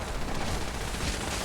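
Enemy gunfire from Enclave soldiers in a post-apocalyptic video game, a dense, steady wash of rattling shots and low rumble, moderately loud and continuous for the whole stretch.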